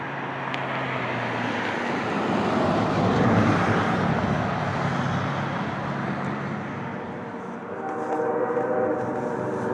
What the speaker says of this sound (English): X451 has a 79-car train of auto racks in motion